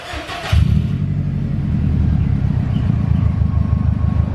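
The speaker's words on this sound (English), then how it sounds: "going to do a open downpipe startup" A Subaru WRX engine starts with the stock exhaust removed and an open downpipe: a starter crank, then the engine catches with a sudden loud, raw rumble and settles into a steady, throaty idle close by.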